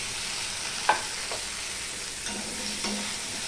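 Potatoes and onions fry with a pinch of salt in an oil-filled pan for a Bengali okra, potato and katla fish curry: a steady close sizzle broken by a few scraping stirs, with no talking.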